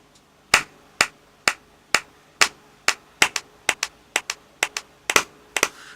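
Finger snaps echo through a delay effect, each crisp sharp crack followed by fading repeats, and the snaps sound in a steady rhythm that gets denser over about six seconds.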